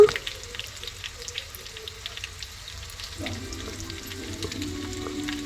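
Chopped garlic frying in a pan for tomato onion thokku, giving a steady close sizzle with a faint background tone, heard alone with no talk.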